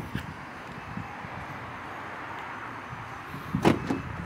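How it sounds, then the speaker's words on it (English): A quiet steady hum inside a 2025 Toyota Camry, then a brief cluster of mechanical clunks as the door locks actuate and unlock near the end. "Now that door just unlocked."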